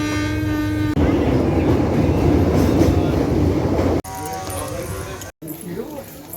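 Steady rumble and clatter from inside a moving train carriage, with wheel noise filling the ride and a few brief dropouts, while people talk over it.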